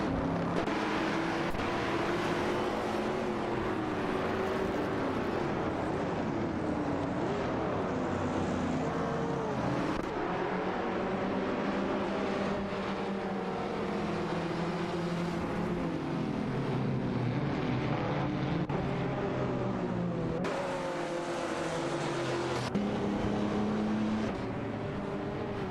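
Racing car engines in a video game, including a Ford Fairlane 66, roar in a continuous loud drone that rises and falls as the cars shift and jostle for position, with no voices.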